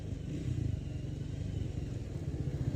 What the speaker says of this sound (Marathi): riding the Triumph for the first time guys